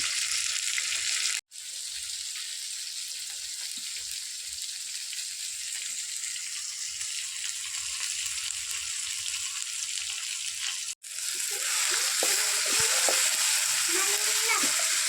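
Tomatoes and green chillies sizzle and crackle steadily in a hot pan, a continuous frying hiss with a couple of brief cuts and occasional stirring.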